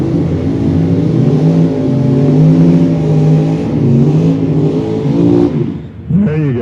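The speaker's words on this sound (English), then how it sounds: "You should do big burnouts." Tri-5 drag cars with big-block engines rev hard during burnouts at Tucson Dragway, a loud sustained engine roar with shifting pitch that drops away near the end, with an announcer's voice under it.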